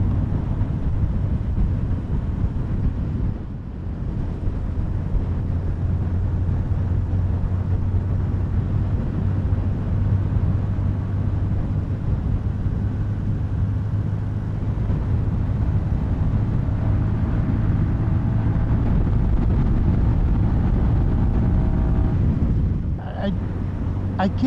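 A 2024 CFMoto 300NK motorcycle rides along steadily, its engine a constant low drone with heavy wind rumble, holding loud and close for the whole stretch with a brief dip near the start.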